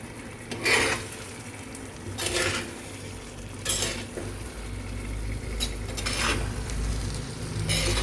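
Fish in masala is stirred in a pan, with bursts of utensil scraping and clatter over a low steady sizzle.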